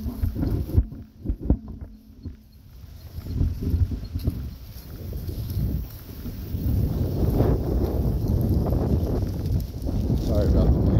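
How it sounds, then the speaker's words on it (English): Gusty wind buffets the microphone outdoors on a windy day in Rocky Ford, Colorado, near fire department vehicles. Bumpy rumbles come first, then a steady, loud roar of wind noise. "Sorry about the wind. It's kind of windy out here today."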